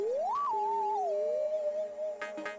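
Amiga video game music for Hop to the Top – Bunny's Revenge played through AMOS Protracker replay routines, a sliding, wavering lead melody over steady tones that sounds out of tune, with brief percussive bursts near the end.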